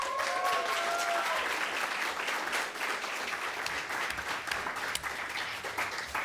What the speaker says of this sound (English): that's a really long applause for me